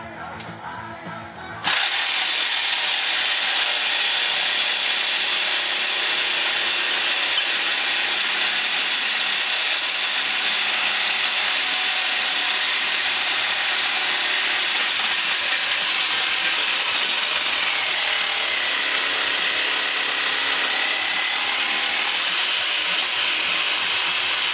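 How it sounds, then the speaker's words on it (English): A jigsaw cuts through lubricated aluminum, a loud, harsh, steady grinding whine that starts abruptly after a brief quiet moment and runs continuously at close range with no talking. "Thing you have to watch when you're going around the corners with your jigsaw"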